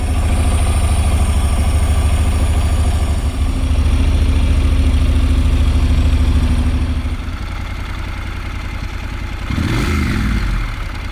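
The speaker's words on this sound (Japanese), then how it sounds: "アイドリングのエンジン音を確認します。" A Honda NC750S motorcycle engine with about 110,000 km, after an overhaul, idling steadily and loudly up close with a faint rattling clatter, then a brief mechanical knock near the end.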